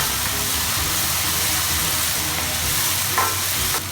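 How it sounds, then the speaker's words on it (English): Ginger garlic paste sizzles steadily in a hot pan while being sautéed for a chicken pepper curry, a continuous dense frying hiss with a faint stir near the end. "when you add the ginger garlic paste, you saute it slowly"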